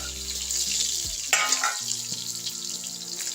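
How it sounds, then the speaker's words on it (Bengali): Pointed gourd and potato frying in a pan with salt, a soft steady sizzle with a brief clatter of stirring partway through, fairly quiet and without talk. "ভালো করে নেড়ে চেড়ে ভেজে নেব।"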